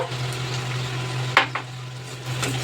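Okra and potatoes frying in a pan with salt, turmeric, Kashmiri chilli powder, coriander powder and chaat masala, giving a steady close sizzle with a steady low hum, a sharp clink of utensil against the pan midway and a lighter scrape soon after.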